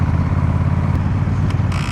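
A Honda Rebel 1100 DCT motorcycle rumbles in gear, a steady low engine drone close by with a few brief higher clicks or rattles near the end.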